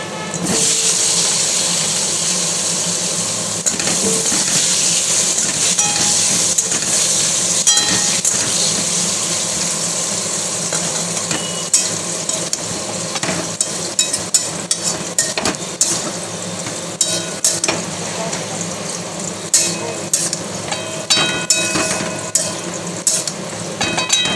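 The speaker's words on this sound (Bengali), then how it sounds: "আলু তেলে দিয়ে দিলাম।" Potatoes frying in hot oil, a steady loud crackling sizzle that runs without pause, joined later by scattered sharp pops and spatters.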